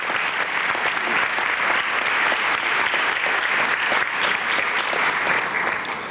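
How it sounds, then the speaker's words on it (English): An audience applauds Mayor Lanier, a dense, steady wash of clapping from a large crowd that runs at even loudness throughout and tapers only slightly at the end. "we should give him another round of applause"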